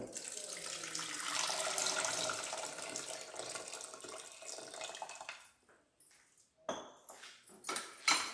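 Water pours steadily into a pressure cooker holding small potatoes, a close, fairly quiet splashing that stops partway through and gives way to a few clinks and knocks of the pot and lid.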